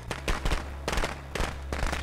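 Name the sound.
firecrackers going off, Friday the 13th video game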